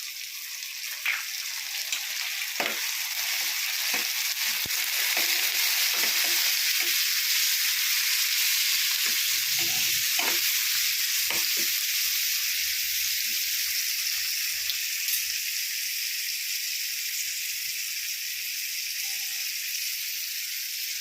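Onions softening in hot oil in a pan for a bitter gourd stir-fry, a steady, even sizzle throughout with occasional faint taps and scrapes, close and uninterrupted by talk.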